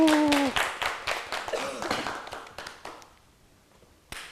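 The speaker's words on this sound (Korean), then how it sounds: "10번째 모임을 위해서 박수 한번 칠까요?" A small group claps for a monthly Bible study meeting, starting with a burst of scattered claps over a brief voice, then thinning out to a few soft taps and a single late clap.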